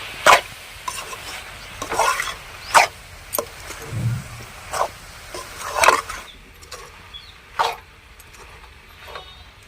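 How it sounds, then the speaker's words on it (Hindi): A spoon scrapes and stirs through a dish of mung dal, beans, potato and fenugreek greens in a pan in repeated short strokes, close and fairly quiet, with no talking. "अब हम नमक को मिक्स कर देते हैं चला के"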